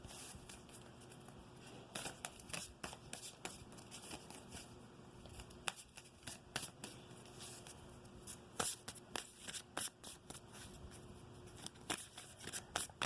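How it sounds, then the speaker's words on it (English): Tarot cards are shuffled and drawn during a twin flame reading, giving quiet, irregular papery riffles and soft flicks and taps spread across the stretch with no talking over them. "Let me take one more card for your person."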